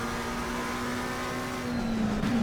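A race car in ACC on the Watkins Glen circuit during a fast qualifying lap, its engine holding a steady, loud drone that rises slightly in pitch near the end, heard alone without talk.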